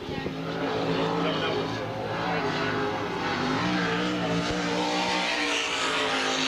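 A 410 sprint car runs flat out around the dirt track at Bridgeport Speedway, its engine a loud, continuous high-revving roar that holds steady with slight pitch swells, with commentary faintly mixed in.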